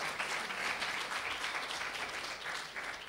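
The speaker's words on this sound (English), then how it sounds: "let's give God a praise and a real clap for that" Congregation applauding during a church worship service, a steady wash of many hands clapping that fills the full stretch without pause or voices.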